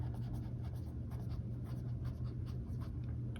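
Close, soft scratching of an extra fine fountain pen nib by Hinze Pen Co. on paper, a steady light rasp of small strokes running continuously.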